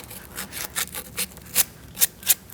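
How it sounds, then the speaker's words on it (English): Rough, rhythmic scrubbing strokes clean debris and rust from the upper radiator hose area on the driver's side of a 2008-2014 Mercedes-Benz C300, about eight close back-and-forth rasps with no talk. "Just getting the debris off and rust."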